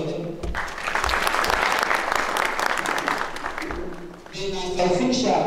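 Sustained audience applause fills a university public lecture hall, dense and steady clapping from a large crowd, with a brief dip near the end before it swells again alongside a speaking voice.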